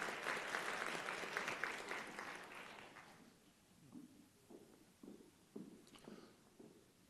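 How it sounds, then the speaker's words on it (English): Convocation audience gives a strong round of clapping that tapers off after about three seconds, followed by a series of soft, evenly spaced footsteps. "Round of applause for her."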